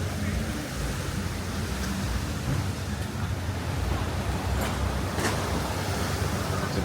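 Steady beach ambience at Ao Nang, Krabi, with a broad continuous wash of surf and breeze, waves rolling in close, and a few faint clicks or taps over the constant rush.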